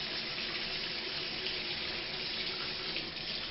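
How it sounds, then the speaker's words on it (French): Water pours steadily into a cooking pan of stuffed peppers, a continuous close splashing stream with no talk. "Je rajoute de l'eau."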